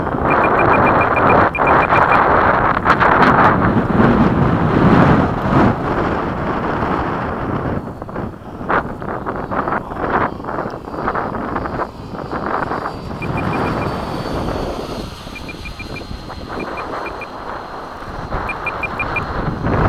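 Hobby King 90mm MiG-17 Fresco RC jet in flight on its maiden flight, a steady broadband roar of its ducted fan that swells loud then eases as it passes, with wind buffeting the microphone.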